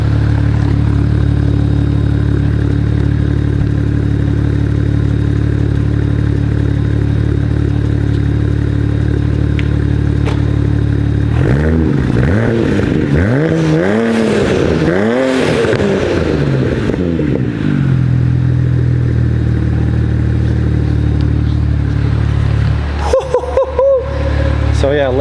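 A BMW 335i with a bad bearing, wrecked and bought at auction, idles cold, then revs in a few loud rising and falling bursts before settling back to a steady idle, with a clattery rattle near the end.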